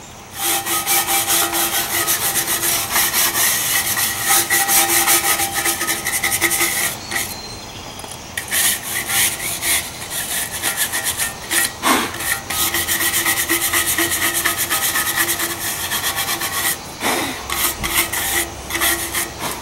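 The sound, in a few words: scrubbing rust off cast iron treated with apple vinegar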